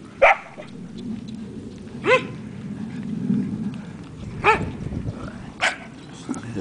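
A puppy gives four short, sharp yips spaced a second or two apart, moderately close, with someone talking faintly in between at a horse training session.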